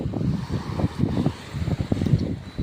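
Gusty wind buffets the microphone in loud, uneven bursts, with a faint low wash like water underneath.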